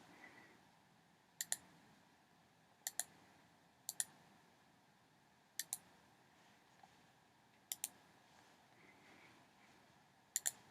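Computer mouse clicks while working in Adobe Illustrator, mostly crisp double clicks spaced a second or two apart, close and fairly quiet against a faint room hiss, with no talking.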